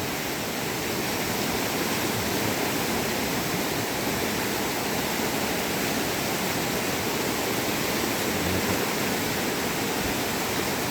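Wang Takrai waterfall roars in a steady, dense wash of falling water, loud and unbroken throughout with no voices.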